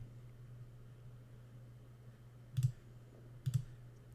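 Computer mouse clicking while a website menu is demonstrated, two faint, quick double clicks about a second apart over a low, steady hum.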